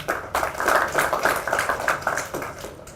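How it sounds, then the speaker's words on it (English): Audience clapping at the Rural Private Hospitals Association of Kenya annual convention, a steady patter of many hands that swells and then tapers off over a few seconds. "another round of applause for my friend John"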